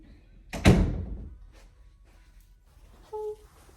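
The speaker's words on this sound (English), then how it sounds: "Hold on, let me close the door." A door is pushed shut in a quiet room, giving one solid thunk with a short decay. Faint knocks and small creaks follow, then a brief high-pitched squeak.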